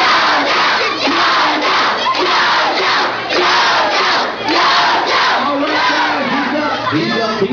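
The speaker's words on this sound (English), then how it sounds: "hey look, your fans are calling for you" Dense crowd of schoolchildren at a charter school assembly yelling and chanting loudly in unison for a mascot named Yojo, sustained and close, with overlapping shouts rising and falling throughout.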